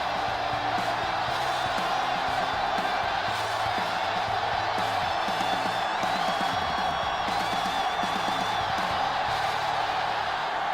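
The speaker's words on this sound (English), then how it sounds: "The crowd in full throat as we get this new season started with the kickoff." Football stadium crowd at a season-opening kickoff, a loud continuous roar of many voices that holds steady throughout with scattered shouts rising above it.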